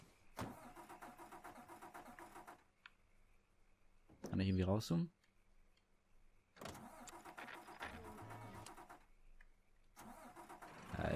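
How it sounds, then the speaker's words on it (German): A car engine in the video game Mafia 3 cranks over and catches in several long, rough stretches, with a loud burst in between, steady and near, while someone speaks briefly in German. "Geht der Motor? Ah, der Motor geht, okay."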